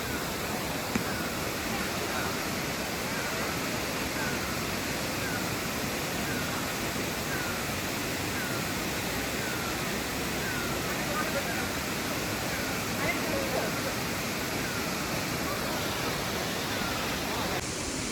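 Banjhakri waterfall in Sikkim, its steady broadband rush of falling water continuous and fairly close throughout, with no clear talk over it.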